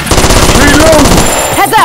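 Rapid bursts of automatic gunfire from a video game firefight, loud and dense throughout, with scattered shots and a ricochet-like whine near the end.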